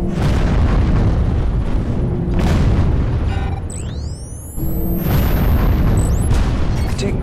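Loki orbital bombardment in Call of Duty Ghosts, with loud, heavy booming explosions rolling one after another and a whistling descending streak midway.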